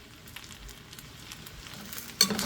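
Fat melting in a pan ahead of cooking breakfast eggs, with sausage and potatoes, gives a quiet, steady sizzle and crackle that swells into a sharper burst of frying near the end.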